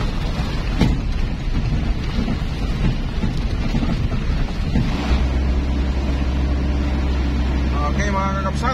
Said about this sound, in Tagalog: Nabutan kami ng ulan, mga kakapsat.